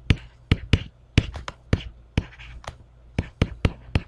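Pen or marker strokes writing out an algebra step on a board or page, sounding as a series of sharp, close taps and short scratches in an irregular rhythm with brief pauses between them.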